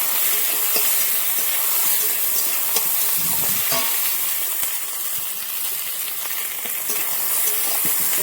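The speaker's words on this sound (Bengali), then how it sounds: "কাঁচা লঙ্কা কুচোনো দিয়ে দেবো। দিয়ে এটাকে ভালো করে কষিয়ে নেবো।" Fish mustard paste with chopped green chillies sautés in a hot pan, a loud, dense, continuous sizzle and hiss that lasts throughout, close up, with occasional faint scraping of stirring and no talk.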